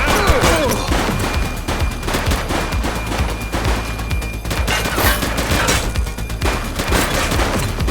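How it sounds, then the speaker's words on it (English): Heavy gunfire in the police video game The Precinct, a dense, continuous barrage of rapid shots and automatic bursts, loud and close throughout with no pause. "Shots fired!"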